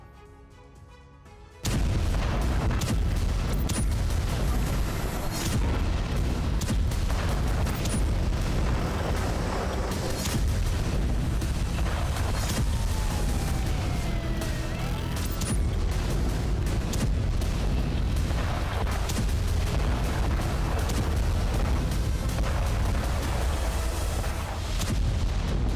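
Explosions across Iranian cities: after a brief quiet opening, a dense, continuous barrage of booms and blasts rolls on for over twenty seconds at high, sustained loudness.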